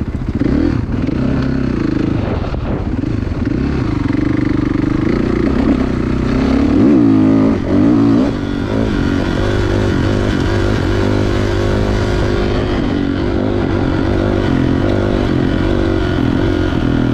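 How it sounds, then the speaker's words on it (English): A 2016 Kawasaki KX 450 dirt bike engine runs loud and close out at the ponds, its steady buzzing note rising and falling through several throttle revs with no talking. "Another dirt bike ride out of the ponds. 2016 KX 450."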